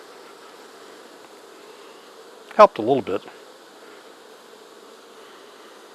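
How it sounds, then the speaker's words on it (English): Honey bees on a beehive frame give a soft, steady drone throughout, with a brief burst of a person talking in the middle. "Ooh, another big blob of bees."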